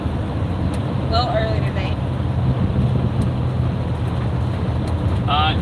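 Steady road rumble and engine drone fill the cabin of a car on a long drive home, constant and close, with someone speaking briefly over it.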